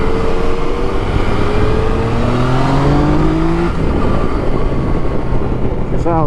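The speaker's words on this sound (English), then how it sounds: "The little pops and crackles and everything else." Car with a stock exhaust accelerating through the streets of Nottingham at night, the engine droning and climbing in pitch, followed by a few faint pops and crackles from the exhaust as the throttle lifts.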